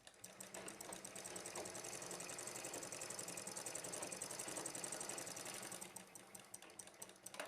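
A sewing machine stitches the neck of a blouse lining, a fast, even, rattling run of needle strokes that slows near the end, faint but steady, no talk.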